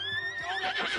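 A horse in a PS4 video game lets out one loud, close whinny with a wavering pitch that lasts about a second.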